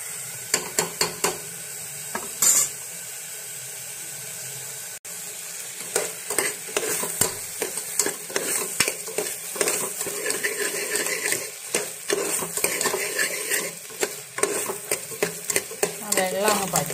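A spoon stirs and scrapes through rice coated in masala in a sizzling pan for fish biryani, with repeated clinks and scrapes over the frying.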